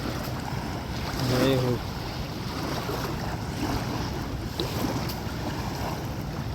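Waves of the Narmada river wash against a sandy shore in a steady, close churn mixed with wind buffeting the microphone, while someone briefly speaks over it.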